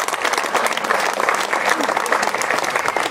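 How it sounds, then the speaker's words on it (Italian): A crowd applauds at the inauguration of a restored statue of San Rocco, sustained and even clapping from many hands at close range, with voices faintly underneath. "facciamoci un applauso a tutti"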